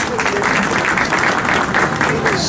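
Audience applause at a store branch opening ceremony in İnegöl, Bursa, as a chamber of commerce president is welcomed to the stage; steady, dense clapping fills the whole stretch at close range with faint crowd murmur.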